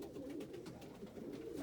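Pigeons in a loft coo softly and steadily, their low, throaty, rolling calls repeating close by in a quiet space.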